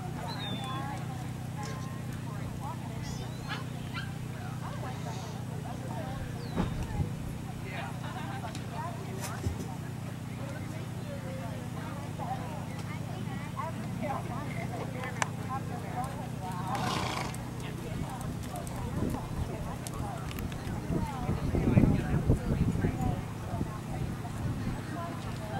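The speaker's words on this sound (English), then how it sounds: "Canter your horses, please" Horses cantering in an arena with occasional hoof thuds and a whinny, under steady low rumble and faint voices.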